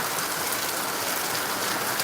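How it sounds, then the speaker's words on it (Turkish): Hail and rain fall in a dense, steady hiss, a loud unbroken wash of drops striking surfaces close by with no voices over it. "Bahri orada da mı dolu yağıyor böyle?"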